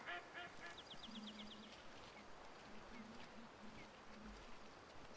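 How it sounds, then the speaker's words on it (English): Geese honk in the hunting game Way of the Hunter, a few brief nasal calls in short bursts, fairly faint and distant over a quiet outdoor ambience. "I don't want to really spook the geese that are there"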